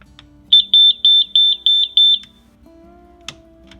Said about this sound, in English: there's a warning buzzer that beeps